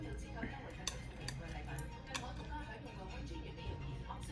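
Chopsticks and a serving utensil clink against a bowl while rice noodles with beef in black bean sauce are portioned out at a Hong Kong bistro, a few sharp light taps over quiet restaurant murmur, with a person talking.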